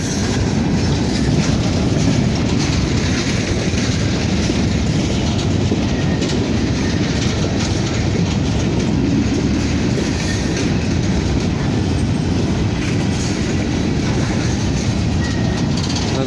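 A heavy westbound grain train rolls past close by on the Harrisburg line, with a dense, steady rumble and clatter of wheels on rails that lasts throughout and masks any other sound.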